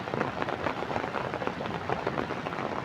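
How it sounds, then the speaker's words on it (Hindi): Heavy monsoon rain pours down steadily in Chamba, Himachal Pradesh, where flooding brings stones and debris down the slope. The hiss is dense, loud and continuous, with no voices. "इतनी बारिश हो रही है"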